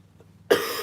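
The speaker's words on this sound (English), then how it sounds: "it looks like I'm going to start coughing again" One sharp, harsh cough bursts out after a moment of near silence.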